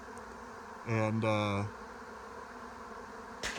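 A honeybee swarm taking off with the queen, a steady faint buzzing drone of many bees in flight, with a brief nearby louder buzz passing through and a single spoken word.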